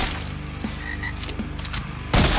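Frog croaking in the swamp horror rail shooter video game Lighthouse Of The Dead, several rasping croaks repeating over a busy game soundscape, ending in a sudden loud burst like gunfire.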